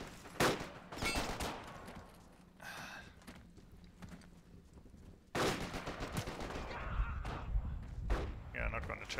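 Bren gun machine gun fire in the multiplayer game Forgotten Hope 2 on a desert town map, heavy bursts of automatic shots and thuds in two loud clusters with quieter gaps, voices talking in between.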